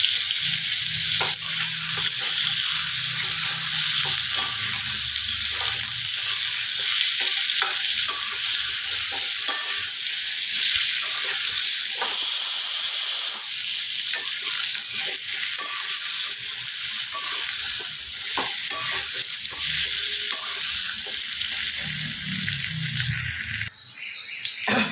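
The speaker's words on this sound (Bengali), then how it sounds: "ক্যাপসিকাম একটু ভালো করে ভেজে নেবেন" Capsicum frying with potato, papaya and carrot in a pan makes a continuous close sizzle with repeated spatula scrapes and stirring, loud and without talk.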